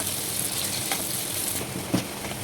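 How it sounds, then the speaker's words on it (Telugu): Onions and green chillies frying in hot oil, a steady close sizzle with faint stirring clicks, no voices. "ఆయిల్ హీట్ ఎక్కింది. ఇప్పుడు ఆనియన్ పచ్చిమిర్చి చేసేస్తున్నాను"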